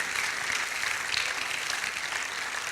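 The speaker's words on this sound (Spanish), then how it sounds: "Dele un aplauso al Señor en esta tarde si usted lo cree." A church congregation applauding during a Spanish-language service: loud, dense, continuous clapping from many people, steady and full throughout.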